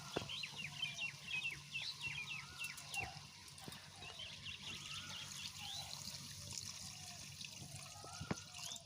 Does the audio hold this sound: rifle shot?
no